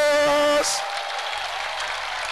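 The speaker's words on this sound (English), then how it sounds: "Can we clap for Jesus?" A church congregation claps for Jesus at a worship gathering, steady crowd applause that takes over right after a preacher's voice and carries on evenly at moderate loudness.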